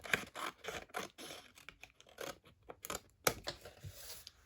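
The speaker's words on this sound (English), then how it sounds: "So I'm just going to cut that way, and then I'm just going to remove the side." Scissors cut through a sheet of 12x12 craft paper in a quick series of close, crisp snips, each one sharp and short, with brief pauses between bursts and no talking.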